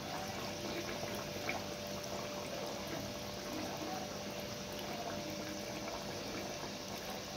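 Food frying in a pan over a low gas flame: a steady, dense sizzle and bubbling hiss that carries evenly throughout with no talk.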